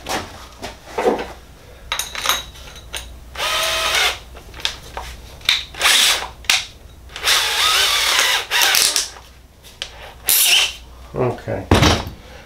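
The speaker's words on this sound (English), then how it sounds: "I'm just going to grab another drill." A cordless drill driving into a Kreg 720 pocket hole jig, whirring in repeated short bursts with clunks and handling knocks between runs, close and loud.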